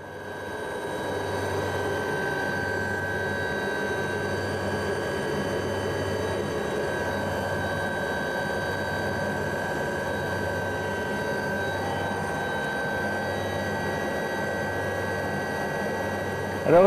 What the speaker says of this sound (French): L'hélico est aux limites de ses capacités